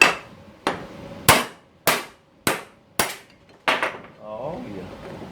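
Hammer blows drive a bushing out of a 1975 C20 truck, seven sharp metallic strikes landing about every half second, close and loud, followed by a brief scraping rattle.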